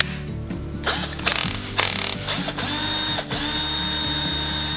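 A cordless drill-screwdriver converted to lithium-ion, here running on its original battery, whirs steadily with a few ratchet-clutch clicks and brief speed changes, close and fairly loud, with no talking.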